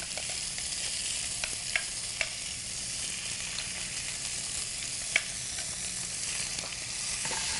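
Diced beetroot hits a pan of hot oil with curry leaves, giving a steady, fairly loud sizzle throughout with a few sharp crackles and pops scattered over it, no voices.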